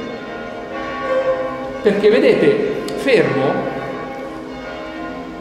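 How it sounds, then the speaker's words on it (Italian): Church bells at Loreto ring faintly in the background while someone talks in Italian over them. "a Loreto le campane stanno dicendo non esagerare"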